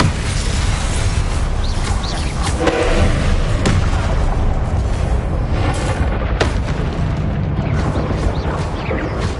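Repeated blasting spell explosions in a wizarding video game, deep booming blasts and crackling impacts layered over a constant loud rumble, with a few sharper hits punctuating the din.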